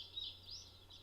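Birds chirp in a visual novel game scene, a bright continuous twitter of high calls carrying on alone over a faint low hum, with a brief extra call near the end.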